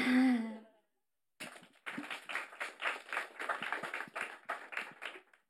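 An audience applauds after a talk: a brief voiced sound opens, then a short silence, then a steady wash of clapping from many hands that holds for several seconds.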